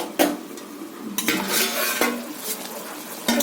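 Metal clattering in a kitchen pan as a lid goes onto a pot of frying bottle gourd and potato with turmeric, several close clanks over a low sizzle.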